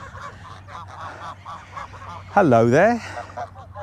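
Geese giving one loud, close, nasal honk partway through, with softer calls and someone speaking briefly before and around it.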